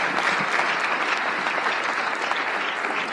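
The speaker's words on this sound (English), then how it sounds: "Let's give them all a round of applause," An audience at a chamber of commerce legislative preview applauds a group of elected officials, a steady dense clapping that holds at full strength for the whole stretch with no voices over it.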